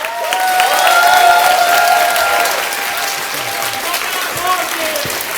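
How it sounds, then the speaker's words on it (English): A crowd at a Green Party by-election rally gives loud, sustained applause with cheering and shouted voices mixed in, and the roar eases slightly toward the end. "Let's give a big round of applause for Dee."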